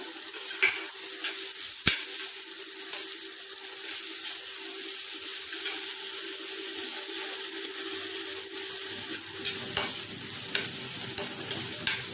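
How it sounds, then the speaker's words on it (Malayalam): Chopped onion, ginger and garlic sauté in a hot pan with a steady close sizzle. There are occasional stirring clinks and scrapes, and no talk. "നമ്മൾ ഈ ഉള്ളി വഴറ്റുമ്പോൾ"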